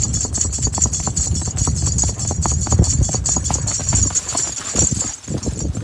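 A mare's hooves clip-clopping in a steady, even rhythm on hard ground, loud and close, with constant background noise.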